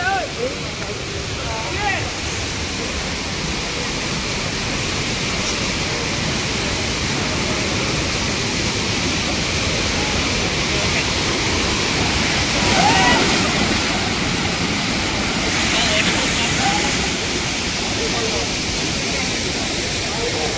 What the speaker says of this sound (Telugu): ఫాల్స్ అయితే మామూలుగా లేదు. చాలా ఫోర్స్గా వస్తున్నాయి వాటర్.